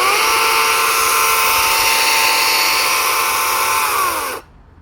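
An Echo 56V battery chainsaw with an 18-inch bar runs close by in a loud, steady high electric whine for about four seconds, then cuts off abruptly, with no one talking.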